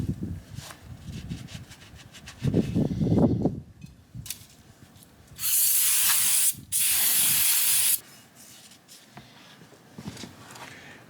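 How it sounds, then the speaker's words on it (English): Aerosol parts cleaner sprays onto a bearing inside a Kubota M4900 tractor's front axle in two loud, steady hissing bursts of about a second each, following brief scraping and handling noises. "My parts cleaner's frozen."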